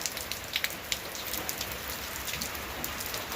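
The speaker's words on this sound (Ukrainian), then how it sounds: "Показала я вам свій дощ, ось затихає." Steady rain falls over a village yard on an overcast September day, a close, even hiss of drops striking surfaces with scattered sharper splats, continuing without pause and with no talk.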